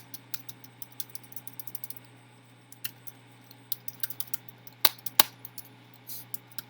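Code being typed on a computer keyboard: quiet, irregular key clicks and taps come close up over a low steady hum, with a few sharper, louder strokes.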